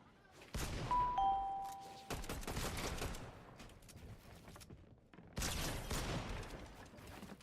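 Video game gunfire comes in loud close bursts of rapid shots, separated by brief lulls, with thin metallic dings ringing between the volleys.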